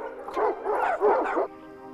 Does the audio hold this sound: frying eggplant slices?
no